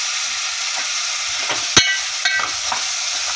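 Drumstick pieces sauté in hot oil for sambar, giving a steady close hiss with a few sharp clicks and scrapes from stirring partway through.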